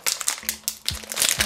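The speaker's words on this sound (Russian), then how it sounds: "И там самые почему-то последние пакетики. Они очень сложно открываются." A plastic blind-bag collectible packet, hard to open, crinkles and crackles in short bursts, close and fairly loud, with no one talking.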